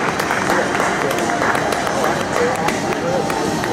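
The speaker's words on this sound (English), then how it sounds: "how about a round of applause for S. Just Elegant and Danny Thompson" Audience at a horse show breaks into sustained applause, a dense, even wash of clapping from a crowd that carries through the whole stretch, with a bit of background chatter mixed in.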